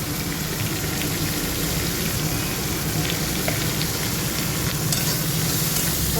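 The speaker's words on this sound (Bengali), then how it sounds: "ওই মশলাটাকে তেলের উপর চিংড়ি মাছের সাথে ভালো করে একটু কষিয়ে নেব।" Spices and chilli powder frying in hot oil with shrimp for a Bengali chorchori, a steady dense sizzle throughout with faint stirring scrapes, close and fairly loud, no voices.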